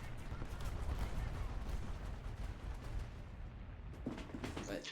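Heavy tank cannon fire booms in a War Thunder ground battle, with dense low rumbling shots and impacts filling the whole stretch amid ongoing combat noise, and a voice briefly heard.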